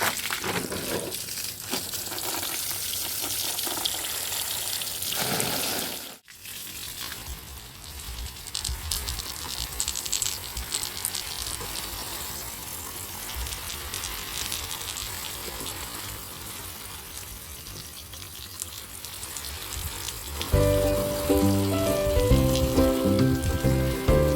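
Plants in a rooftop garden get watered, a continuous splashing, spraying rush with a short pause early on, and music comes in near the end.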